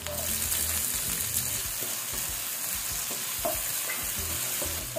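Chopped onion and ginger sautéing in a hot pan for chicken adobo, a steady bright sizzle with intermittent scraping stirs, close and continuous with no talk.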